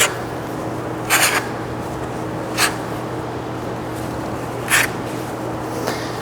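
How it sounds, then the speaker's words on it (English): A bench scraper smears traditional pâte sablée pastry dough across a work bench in four or five separate short scraping strokes, each a soft rasping burst over a low steady hum, with no talking. "you're just smearing this dough towards you and collecting it up on your bench scraper"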